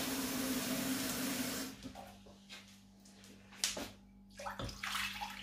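Water pours steadily into a cooking pot packed with stuffed onions, a continuous rushing stream that cuts off partway, followed by a few faint splashes and knocks.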